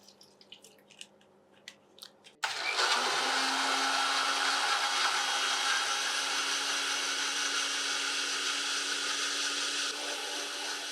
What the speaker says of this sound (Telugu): స్మూత్‌గా మిక్సీ పట్టేసుకోవాలండి